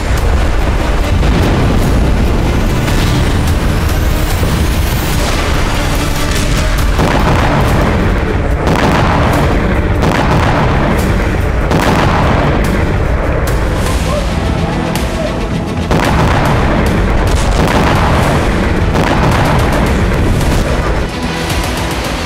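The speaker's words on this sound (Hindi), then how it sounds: "सत्तर से ज्यादा कामिकाजी ड्रोन विस्फोट" A relentless series of loud, booming blasts from missile and kamikaze drone strikes, one after another with rumbling in between, like heavy explosions going off continuously.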